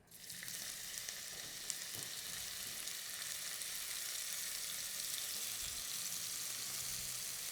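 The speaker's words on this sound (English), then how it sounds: "once your ginger starts to brown a little, you want to just push that to the side." Ginger, garlic and spring onion sizzle steadily in a pan for hot and sour soup, a constant soft hiss that holds evenly from start to finish, close but fairly quiet, with no voices.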